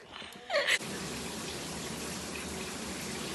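Warm tap water pours steadily into a sink or tub, a continuous broadband gush that runs alone after a short burst of splashing at the start.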